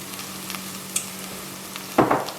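Lentils go into a pan of cooked-down, compact spiced mixture for Ethiopian misir wat, with a low steady frying hiss, a few small taps and one louder scraping stir near the end, close by with no talk.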